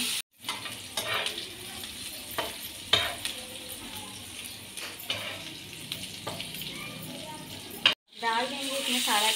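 Ginger garlic paste fried in a pan with onions, a continuous sizzle broken by sharp clinks and scrapes of a spoon stirring, with a brief silent gap and louder hissing near the end; no talk.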